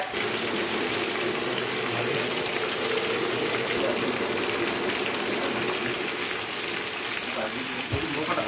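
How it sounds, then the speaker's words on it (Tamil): A large piranha fries in a pan of hot oil, Kerala style, with dense steady sizzling and crackling throughout as oil is spooned over it. A voice talks quietly over the frying. "அந்த எண்ணெயெல்லாம் எடுத்து அப்படியே திரும்ப திரும்ப மேலேயே ஊற்றுறாங்க"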